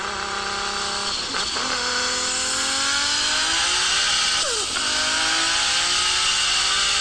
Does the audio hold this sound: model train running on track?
no